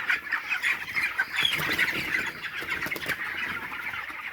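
A crowded flock of young farm-raised chickens in a poultry shed squawks and clucks continuously, a dense busy chatter from many birds close by.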